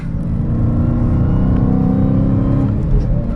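Dodge Challenger SRT Hellcat with a six-speed manual, its engine revving loudly and steadily as the driver downshifts from second gear, a deep continuous exhaust roar heard up close from inside the car, with no talking.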